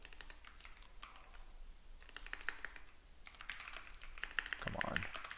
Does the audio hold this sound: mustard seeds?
no